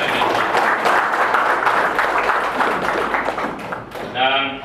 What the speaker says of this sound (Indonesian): Boleh tepuk tangan dulu untuk mengetahui.